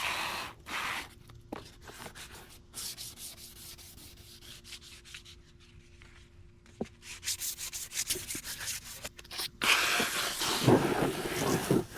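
Wet sanding the paint on a Yamaha Blaster with 1000-grit paper: soft, close rubbing strokes that come in bursts separated by quiet gaps, growing louder and more continuous near the end.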